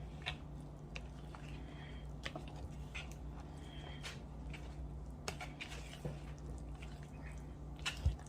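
Half and half cream is stirred into a sweet potato pie filling by hand, producing faint, soft squishing and scattered light clicks against the bowl.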